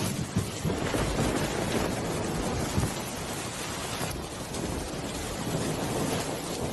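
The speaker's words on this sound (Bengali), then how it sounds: "এদিকে তো বৃষ্টি থামারও নাম নেই" A cartoon village storm sounds as dense, steady rain with low thunder rolling underneath, fairly loud and continuous with brief swells. No voices are heard.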